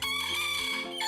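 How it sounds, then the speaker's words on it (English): An indoor rooster crows close by inside a room, one loud sustained cock-a-doodle-doo with strong harmonic tone filling the whole moment. "He is an indoor rooster"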